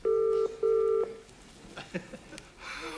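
A landline telephone call placed from a television studio rings out twice, two loud sustained double-tone bursts close to the receiver, followed by faint clicks and line noise before a voice answers.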